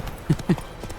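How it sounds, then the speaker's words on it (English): Horse hooves clopping during riding in The Witcher 3 video game, with two distinct hoof beats standing out over soft background game ambience, close and moderately loud. "I'm riding through with a horse, 2 swords."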